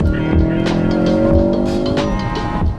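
A Ford Focus RS with a Mountune-optimized Accessport tune accelerating at full throttle through the gears, its engine note rising loud and close under load with a tuned whine, with no talk over it.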